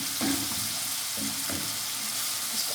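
Masala for a village-style mash dal fries in a pan, a soft continuous sizzle with a few brief stirring scrapes, fairly quiet and close, no voices.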